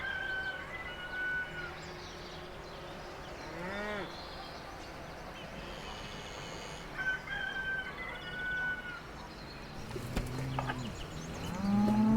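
Cows lowing in a meadow in Burgundy bocage countryside, several drawn-out moos spread across the clip, mixed with a rooster crowing and background birdsong.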